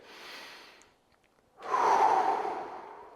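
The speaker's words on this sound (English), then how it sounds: "We got 3 big inhale exhales here." Close, audible breathing during a neck stretch with a resistance band: a soft inhale, a brief pause, then a longer, stronger breathy exhale, with no talk.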